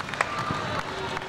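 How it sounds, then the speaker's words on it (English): A wrestling arena crowd at a Southern Pro Wrestling match, a steady wash of cheering and scattered clapping with a few sharper claps, heard at a moderate level from across the hall. "Now the crowd's starting to come alive."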